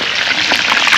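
Onion rings sizzling in hot oil at a fishing camp, a steady broadband crackle and hiss close up with small bubbling pops throughout the short moment.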